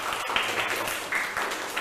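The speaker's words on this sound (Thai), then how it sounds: "ถูกต้องปรบมือดังๆค่ะ" Students clapping in a Thai primary classroom, a short burst of scattered applause that stays steady and fairly loud throughout.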